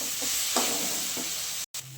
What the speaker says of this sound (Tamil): போட்டு இப்போ நல்லா வதக்கலாங்க.